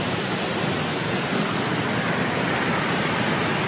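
Galaboda waterfall in Sri Lanka gives a steady, dense rushing roar of falling water, unbroken and fairly loud for the whole stretch, with no voices.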